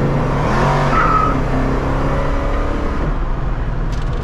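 A Hemi Orange 1971 Dodge Challenger Hemi accelerates hard, its loud, dense engine roar continuous and close for a few seconds before easing slightly near the end.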